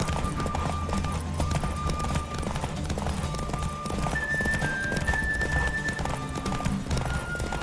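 Hooves clip-clop at a fast, driving gallop as a horse races in The Witcher 3: Wild Hunt, a steady rhythmic pounding layered over game music with a faint voice now and then.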